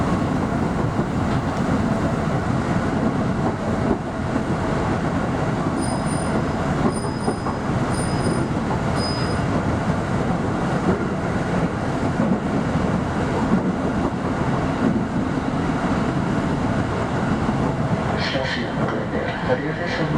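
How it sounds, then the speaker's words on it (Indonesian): KRL commuter train and a long-distance train run side by side on double track near Jatinegara, a steady loud rumble of wheels on rails with squeals and brief high tones, voices faintly underneath. "Ini baru pertama kali saya bisa merekam balapan antara KRL dengan kereta jarak jauh."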